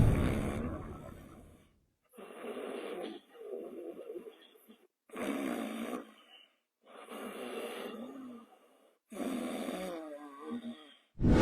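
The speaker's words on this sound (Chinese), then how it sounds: "大家先听一听我昨天睡午觉打鼾的音量" A person snoring during an afternoon nap, recorded close: five loud rattling snores in a steady rhythm, each a couple of seconds long, separated by short quiet pauses.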